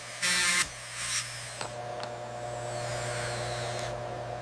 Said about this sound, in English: Drilling for the blue diamond.